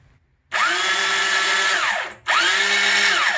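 Fully electric homemade chain gun firing twice: its motor spins the barrels at about 450 RPM, giving a loud, steady whirring whine that spins up, holds for over a second, winds down, then repeats.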